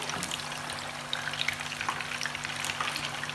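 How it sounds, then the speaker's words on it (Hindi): Plain uncoated fish frying in hot oil for a curry, a dense, crackling sizzle with scattered pops, steady and close with no voices. "इसमें हम अपनी फ़िश को फ्राई करेंगे। फ़िश के ऊपर हमने कुछ भी नहीं लगाना, सिंपल हम इसको फ्राई करेंगे।"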